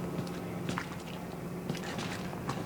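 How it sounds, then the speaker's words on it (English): Squishy footsteps from the video game Outlast squelch in a soft, irregular series of close, wet steps over a low steady background hum. "there are these, like, squishy footstep sound effects"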